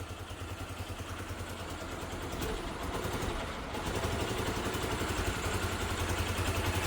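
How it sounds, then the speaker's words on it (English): A cheap Yamaha motorbike engine runs steadily in first gear on its center stand, a continuous close mechanical drone with a faint clattery texture that holds at an even level throughout, with no talk over it. "Clutch cable does work because I've actually got it running, started it in first gear on the center stand"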